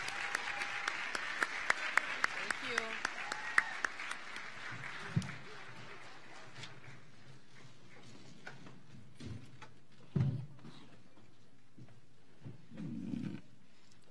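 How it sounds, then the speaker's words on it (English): A school assembly audience applauds its jazz ensemble with a spatter of claps that thins and dies away, followed by a few scattered taps before someone begins speaking. "Let's give them a big round of applause."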